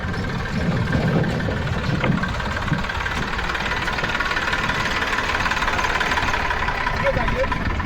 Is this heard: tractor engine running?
yes